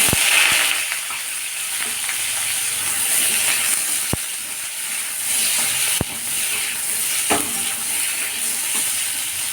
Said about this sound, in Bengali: তো দেখো বন্ধুরা আলুটা ভাজা হয়ে গেছে।